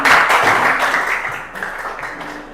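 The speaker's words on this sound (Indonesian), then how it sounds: "Berikan tepuk tangan dulu." A classroom group applauds students coming forward to present, a burst of dense clapping that is loudest at first and then thins and fades toward the end.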